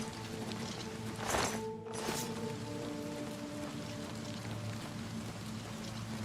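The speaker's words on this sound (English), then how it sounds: "I hear rain or something falling." Rain patters steadily in Oblivion Remastered, a dense soft hiss of falling drops over a low ambient game hum, with one brief louder rush partway through.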